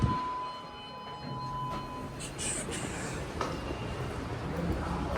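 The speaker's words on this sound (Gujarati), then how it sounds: "સોરી, ટ્રેનનો અવાજ આવશે." A train passes nearby, a steady broadband rumble and rattle holding for several seconds with a few faint higher squeals on top, fairly loud and without talk.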